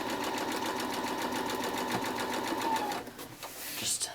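A sewing machine runs steadily, stitching four-patch quilt block pieces together in a fast, even whir that stops after about three seconds, then a few light handling noises follow.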